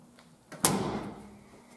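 A Jeep Wrangler YJ door opens with its paddle handle: a single sharp metallic clack, close and loud, trailing off into a short rattle.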